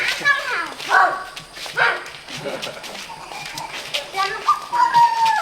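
A dog gives short yips and whimpers outdoors among kindergarten children, its brief calls mixed in with close children's voices and adult talk.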